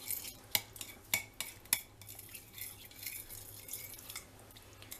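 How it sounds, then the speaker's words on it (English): A spoon stirs cinnamon roll icing in a bowl, giving several sharp metallic clinks against the dish in the first two seconds, then softer scraping and stirring that continues quietly. "I like to mix it with my spoon at first so that it doesn't just go everywhere."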